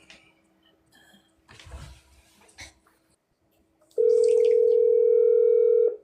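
A telephone dial tone sounds loud and steady for about two seconds on a phone line while calling a lawmaker's office, after a few faint handling noises and quiet shuffles.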